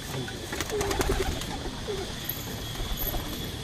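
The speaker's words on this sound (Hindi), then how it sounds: "सीजन के कबूतर अगले पीछे ये भी नए कबूतर छोड़े हैं" Pigeons coo in several short, soft phrases from a loft of homing birds, including newly released young birds, with steady outdoor background noise and no talk.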